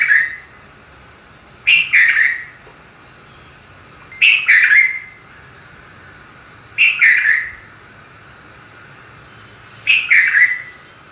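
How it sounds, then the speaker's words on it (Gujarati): A red-vented bulbul sings four short, bright bursts of chirping whistles, spaced a few seconds apart, each rising clearly above a quiet background. "red vented Bulbul,"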